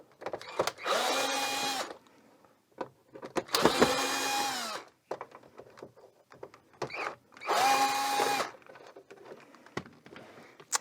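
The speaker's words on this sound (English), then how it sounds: "definitely have your cordless screwdriver charged and ready to go" Cordless screwdriver backing screws out of the cover of a Korg MicroStation keyboard, three separate whirring bursts of a second or two each, close and fairly loud, with small clicks and handling noises between them.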